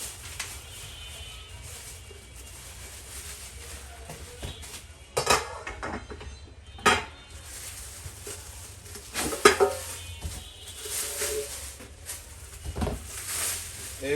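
Cooking pots of a Miyako electric curry cooker being handled, with intermittent clanks and clinks of metal pots rising sharply from a quiet room background, several separate knocks spread across the stretch.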